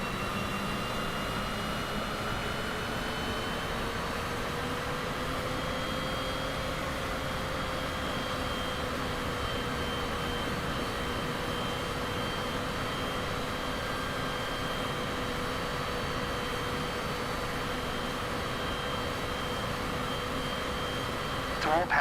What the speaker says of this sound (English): cleared for takeoff runway 4. Cleared for takeoff runway 4 Cessna